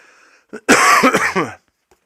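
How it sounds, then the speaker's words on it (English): A single harsh cough bursts out close and loud, a rough, throaty explosion of about a second after a short intake, then silence. "So annoying, this cough."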